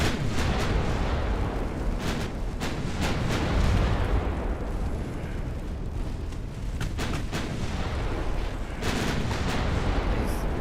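Naval guns firing from transport ships in Ultimate Admiral Dreadnoughts, a steady barrage of deep booms and overlapping blasts rumbling loudly throughout with little break.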